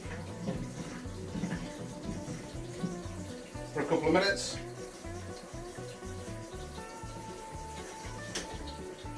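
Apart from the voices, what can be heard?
tap water running over chips in sink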